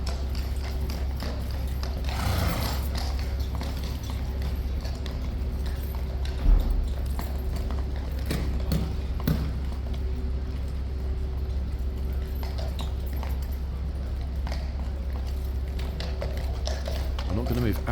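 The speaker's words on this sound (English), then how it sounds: "I want to scare the horse." Horse hooves clip-clop steadily on pavement as the King's Guard rides past, an even rhythmic clatter through outdoor crowd noise with people talking nearby.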